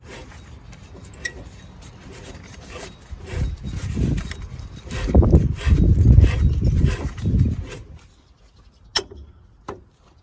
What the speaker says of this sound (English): now it's time to remove the wheel bearing